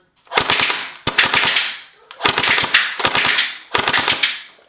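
Gel blaster fired in three-round bursts: five loud, sharp clusters of rapid cracking shots, each followed by a short decaying tail and separated by brief gaps.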